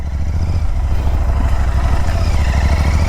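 An Interceptor 650 motorcycle is ridden along a main road, its engine a steady, loud, continuous drone with a low rumble and road and wind noise throughout, and no talking.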